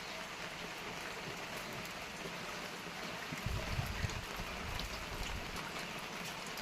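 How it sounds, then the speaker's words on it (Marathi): Light monsoon drizzle falling outdoors on a farm, a faint, steady, even hiss of rain with a brief low rumble partway through and no speech. "तर झिमझिम चालू आहे, हे बघू शकता तुम्ही।"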